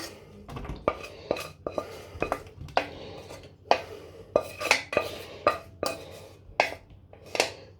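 Onions being put into a dish for cheesy potato, a close series of irregular clinks, taps and knocks of utensils and crockery, moderately loud with short pauses between.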